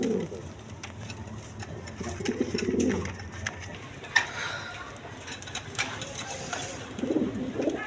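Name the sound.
Lahori pigeons cooing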